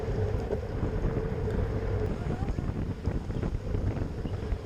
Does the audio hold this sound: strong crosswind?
yes